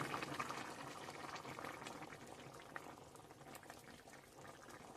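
Bengali shukto broth bubbling at a steady boil in a pan, a continuous close, soft gurgling and popping with no voices over it.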